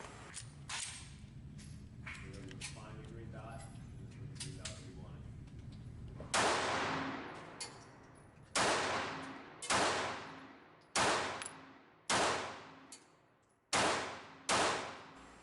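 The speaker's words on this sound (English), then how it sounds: "I'm shooting Remington UMC 95 grain full metal jacket rounds." A Glock 42 .380 semi-automatic pistol fires Remington UMC 95 grain full metal jacket rounds, about eight sharp, loud reports with ringing decays, spaced roughly a second apart, after a stretch of quieter indistinct noise.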